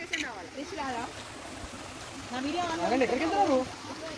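A rain-fed waterfall pours over rocks, its steady broadband rush continuing beneath people talking loudly nearby throughout.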